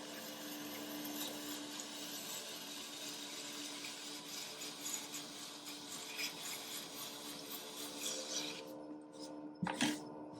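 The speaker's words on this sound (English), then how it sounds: "it makes a great trimming tool just for scraping off rough areas" A well-worn metal rib scrapes rough areas off a clay platter, making a continuous dry rasping drag that ends with a couple of sharper knocks.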